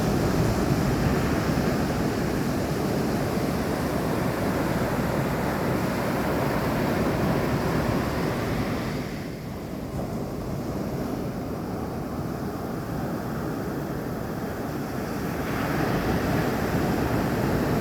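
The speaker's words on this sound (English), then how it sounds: "The sound of the waves." Continuous roar of ocean surf with gusting wind buffeting the microphone ahead of a storm front, loud and steady with a brief dip midway.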